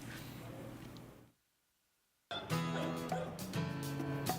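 A dog barks several times outdoors, with sharp, close yips and barks after a brief silent gap and some background noise.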